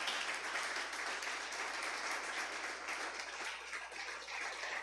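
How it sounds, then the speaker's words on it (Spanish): A church congregation applauds, a steady wash of many hands clapping at moderate distance, fairly faint and continuous without voices. "Denle un aplauso al Señor en esta mañana."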